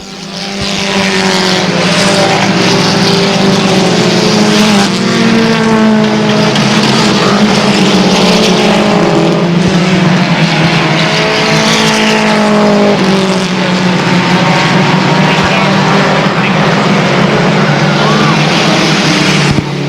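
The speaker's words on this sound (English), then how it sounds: "Skip Liberty is fourth, but it's down to a 2-car battle with 2 laps to go" Race cars roaring around Airborne Speedway late in a two-car battle for the lead, a loud, continuous engine drone swelling and fading as cars pass, with faint announcer talk underneath.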